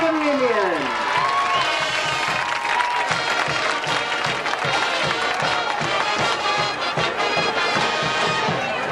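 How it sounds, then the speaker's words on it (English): A large crowd at a 1993 high school football game between Claremore and Stilwell applauds and cheers, a loud, dense, steady wash of clapping, with a faint tone fading out at the start. "Tina Brown, let's give her a round of applause"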